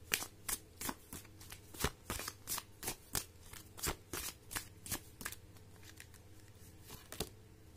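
Oracle cards are shuffled by hand in a quiet room, a close, soft series of riffling slaps and flicks in an uneven rhythm.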